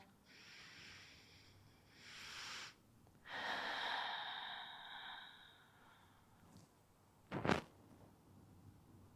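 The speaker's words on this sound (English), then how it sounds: "One more big deep breath." Deep breathing during a Pilates class: a long airy inhale followed by a slow, steady exhale, then a brief sharp sniff near the end, close and fairly soft, with no talking.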